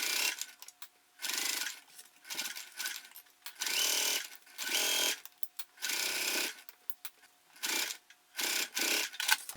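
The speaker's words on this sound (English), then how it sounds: "I was sewing around the main part of the backpack" A sewing machine stitches around the main body of a backpack in repeated bursts of rapid whirring, each run a second or so long, separated by short pauses while the fabric is turned.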